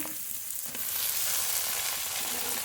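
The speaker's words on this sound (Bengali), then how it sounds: "পেঁয়াজ টমেটো একটু হালকা করে ভেজে নেব" Chopped onion and tomato frying in oil with cloves and cinnamon in a pan, a loud continuous hiss and sizzle close by with light stirring, no talking.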